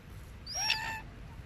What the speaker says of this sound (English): we're trying to see the seagulls